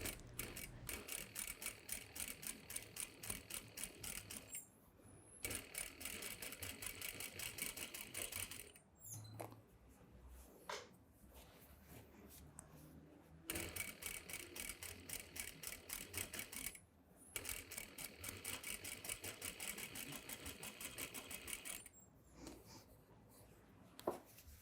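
A sewing machine top-stitches a skirt waistband in steady, rapid runs broken by short pauses, heard up close with no talk.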